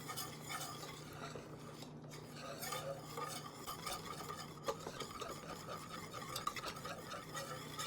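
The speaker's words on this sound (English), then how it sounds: "now we're going to stir it until it melts." Sugar being stirred in a pan as it melts for caramel sauce, with a continuous scraping and swishing of the utensil against the pan and light metallic clinks, quiet and close.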